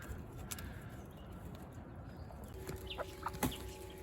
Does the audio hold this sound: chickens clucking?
yes